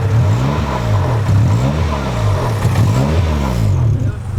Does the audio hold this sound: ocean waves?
no